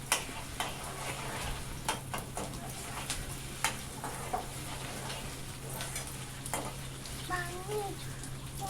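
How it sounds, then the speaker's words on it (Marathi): Onion, chili and tomato sauté in a pan in a small home kitchen, giving a soft, steady sizzle with occasional utensil ticks over a constant low hum, and a brief voice near the end. "कांदे मिरची टमाटर छान परतून घ्यायचे लाल होईपर्यंत."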